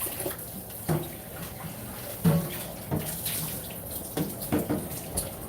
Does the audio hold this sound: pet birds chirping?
no